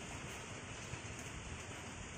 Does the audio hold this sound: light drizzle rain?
yes